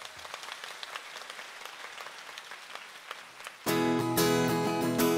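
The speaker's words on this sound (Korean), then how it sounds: "함께 박수 치시면서 하겠습니다" A concert audience claps along as a song about the homeland starts at a book concert, first a loose steady patter of hands, then loud music with singing bursting in and covering the clapping.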